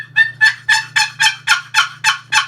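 Nine rhythmic yelping notes from a turkey call, mimicking a hen, each one sharp and rising before falling away, evenly spaced and close, with a steady low hum underneath.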